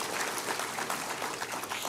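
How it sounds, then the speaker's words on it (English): Steady applause from an audience at an outdoor birthday barbecue main stage, a dense continuous wash of clapping with no voices, moderately loud and even throughout. "Please clap."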